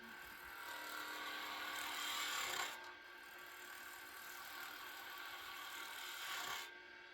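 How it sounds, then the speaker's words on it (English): Skew chisel taking a planing cut along a spinning wooden tool handle on a lathe, a steady close scraping rasp that runs about three seconds, drops briefly and then resumes at a similar level. "planing with a skew, I'm trying to go at a bit of a less angle where I hold the tool flatter to the wood"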